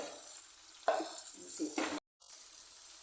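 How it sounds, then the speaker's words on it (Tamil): Small shallots sautéing in a pan, giving a bright, steady sizzle with a couple of louder bursts as they are stirred and a brief cut to silence partway through. "சின்ன வெங்காயம் நல்லா வதங்கிடுச்சு."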